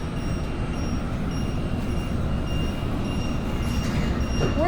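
Interior of an MBTA Green Line train in motion, a loud continuous low rumble of wheels on rails with a faint rising squeal near the end and no talking.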